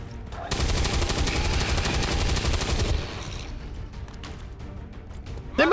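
Rapid automatic gunfire from the XCOM 2 video game, a loud sustained burst of closely spaced shots lasting a few seconds, then a quieter stretch of clatter and mechanical game sounds.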